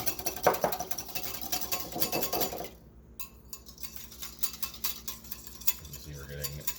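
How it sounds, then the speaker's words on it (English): A whisk clatters quickly against a bowl as egg yolks are beaten for Japanese soufflé pancakes. The clinking is dense and busy for about three seconds, then drops to softer, sparser scraping. "we can go ahead and add that to our egg yolks and give that a quick whisking"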